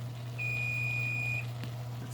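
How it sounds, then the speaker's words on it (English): A kitchen oven's beeper sounds once with a single steady electronic tone lasting about a second, clear over a low constant hum. "That beeper tells me that the oven is up to temperature."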